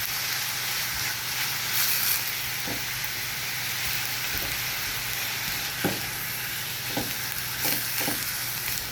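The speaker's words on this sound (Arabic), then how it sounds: "هتنزلي بقى باللحمه المفرومه. هتقعدي تقلبي فيها" Minced meat frying in a pan for béchamel pasta, a continuous close sizzle broken by periodic scrapes and clanks as it is stirred.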